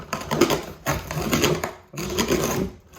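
A box reducer's small wheel rolls and crunches across shipping-box cardboard, scoring perforations in three rough, grinding passes separated by brief pauses, close up and fairly quiet.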